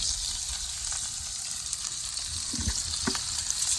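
Vegetables sauté in a hot pan over high heat for brown stew catfish, a steady close sizzle and hiss running throughout, with a few brief clinks and scrapes of a utensil toward the end.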